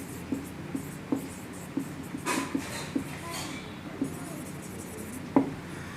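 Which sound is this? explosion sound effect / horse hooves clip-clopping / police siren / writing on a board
writing on a board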